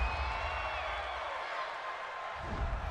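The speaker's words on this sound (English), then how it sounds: "Well, this crowd does not like that call." Football stadium crowd at an Indianapolis Colts versus Houston Texans game reacting to a penalty call, a steady loud roar of many voices with rising whistles and shouts throughout.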